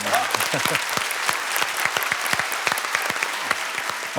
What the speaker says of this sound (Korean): 다시 한번 이 세 분 모두에게 큰 박수 부탁드리겠습니다